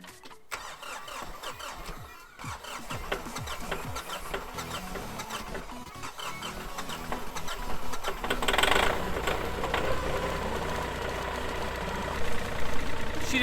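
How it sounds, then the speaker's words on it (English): A tractor engine runs steadily at idle on a cold snowy day during a blizzard, warming up after a hard start, with a continuous mid-pitched rumble and mechanical rattle that grows slightly louder later on. "I do have to warm up the tractor as well."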